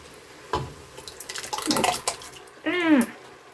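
Liquids poured into a pot of chili, with splashing and glugging in several short pours, including a final gurgling pour that rises in pitch as a container empties, close and moderately loud.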